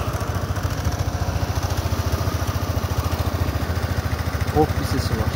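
A Honda Forza 300 (NSS300) scooter engine idles close by with a steady, fast, throbbing putter, loud and even throughout, with a brief louder blip near the end.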